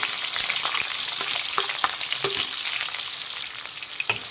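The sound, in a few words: sliced onions frying in hot oil in a pan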